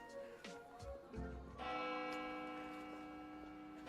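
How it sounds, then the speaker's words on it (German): A bell in the video game Lil Guardsman rings out: a few light tones, then a deep resonant strike whose long, ringing tail sustains and slowly fades. "Oh, die Glocke."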